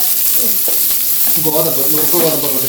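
Washed broken wheat hits a hot pan for upma, giving a steady close frying hiss with soft scraping stirs building in the second half, no voices.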